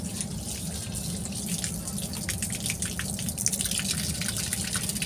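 Tap water runs steadily over fish being washed in a sink, a close, continuous gushing splash with irregular drips and spatters as the fish is handled under the stream.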